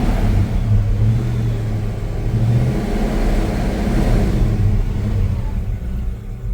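A 1966 Chevy C10 pickup engine runs steadily, a loud, close, low rumbling drone that holds even throughout with no voices over it.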